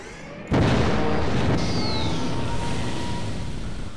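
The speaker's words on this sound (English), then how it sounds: "So any direct contact is going to make it instantly explode." A sudden explosion in the remastered Half-Life's Lambda Core, set off on direct contact: one heavy boom bursts in after a brief quiet moment, then a loud, rumbling roar that slowly fades.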